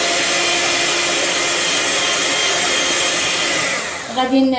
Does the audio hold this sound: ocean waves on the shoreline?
no